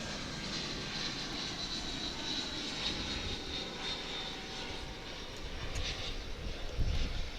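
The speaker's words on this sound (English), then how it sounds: "Coming in from San Luis Potosi in Mexico, it's an A319." An American Airlines Airbus A319 jet landing on a flight from San Luis Potosi, Mexico: a steady, broad engine roar that swells slightly near the end, heard alone with no talk.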